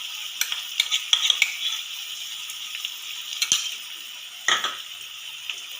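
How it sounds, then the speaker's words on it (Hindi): Ginger garlic paste stirred into a pan over low heat for shahi matar paneer, soft background sizzle under quick metallic spoon taps and scrapes, with a few louder knocks against the pan; no talking. "इसमें अदरक लहसुन का पेस्ट डालेंगे 1 स्पून"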